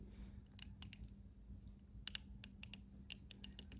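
An Icon 3/8-inch 90-tooth ratchet gives faint, quick clicking bursts in short irregular runs, close up in a quiet room.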